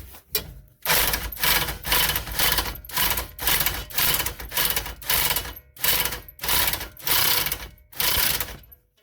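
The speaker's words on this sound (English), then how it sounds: "I think I'll just run the gun on it. That should tighten it up quicker." An impact gun tightens a nut on a Subaru in a garage with about a dozen loud rattling bursts separated by short pauses, each burst a rapid hammering buzz.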